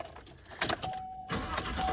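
A 2018 Chevrolet Silverado 1500 engine cranks and catches on the first try, with a loud broadband burst of starter and ignition noise settling into a steady idle, close by.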